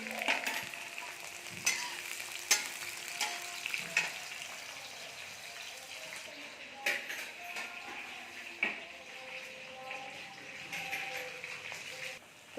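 Onion, green chillies and cumin frying in a pan for a Punjabi capsicum and potato sabzi, a steady sizzle broken by repeated stirring scrapes and clinks of a spoon against the pan.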